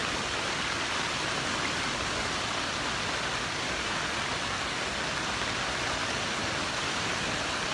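Super Typhoon Odette lashing Mindanao, a steady roar of driving rain and strong wind that fills the whole clip at a constant level, close and dense with no pauses and no voices.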